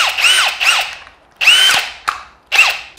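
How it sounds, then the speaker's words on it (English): A Bosch BITURBO brushless power drill with a large metal chuck revs up in short bursts, loud and close, each burst whining up and then winding down, with sharp clicks as the chuck tightens. "this drill will happily spin this beast around"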